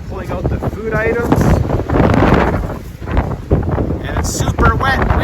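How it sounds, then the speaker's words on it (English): Strong wind buffets the microphone outdoors on a wet, windy day in Iceland's Westfjords, roaring in loud gusts throughout while people talk over it. "Super wet and windy."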